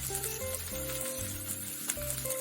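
Meatballs fry in a pan with a steady, fairly quiet sizzle under a constant low background hum, continuous across the short stretch with no talk.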